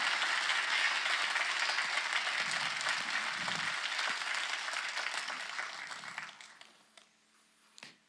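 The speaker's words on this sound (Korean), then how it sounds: "박수를 치려보시겠죠." A church congregation applauds during a sermon, loud sustained clapping that gradually thins out and fades to quiet over several seconds.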